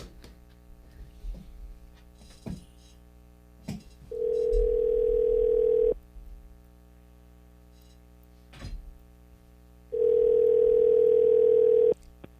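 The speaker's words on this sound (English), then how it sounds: "I'm going to make the phone call now." A telephone dial tone sounds in two steady two-second bursts, loud and clear, while a radio host at ESPN 1170 AM places an on-air call, with light clicks and handling noises in between.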